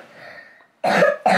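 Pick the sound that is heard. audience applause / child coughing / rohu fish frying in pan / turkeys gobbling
child coughing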